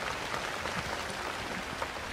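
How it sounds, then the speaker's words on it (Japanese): Outdoor concert crowd at an open-air amphitheatre in Osaka applauds in a steady, dense wash of many hands, fairly distant and even, with no voices over it. "はい、すいません、拍手ね、ありがとうございます。"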